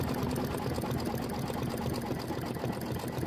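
An embroidery sewing machine stitches a quilt block, giving a steady, dense mechanical whir with a fast, even stitching rhythm that runs without a break and without any voices.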